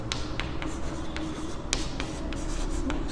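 A pen writes on paper while working a coordinate geometry problem, with quiet scratchy strokes and short taps in an irregular rhythm, close up against a low room hum and no talking.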